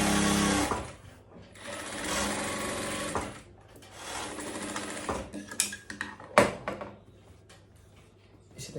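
A sewing machine bastes a side seam on a silk sharara in several short bursts of rapid needle chatter, separated by pauses with small handling clicks and taps, close and clear.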